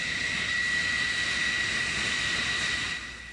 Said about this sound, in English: Another launch, airplanes leaving the cat again.